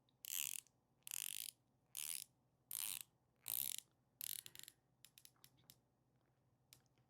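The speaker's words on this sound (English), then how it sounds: "Let me rotate that so you can hear what the bezel sounds like." Steel dive-watch bezel on a Baltic Aquascape turned in short bursts, giving crisp close ratcheting clicks in about six quick runs, then a few scattered single clicks fading out.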